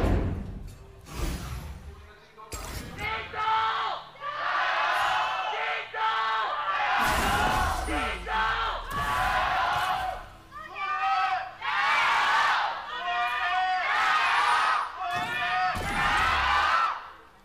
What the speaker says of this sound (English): Crowd is still warming up.